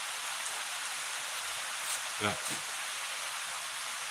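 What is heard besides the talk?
heavy rain on an uninsulated metal shop roof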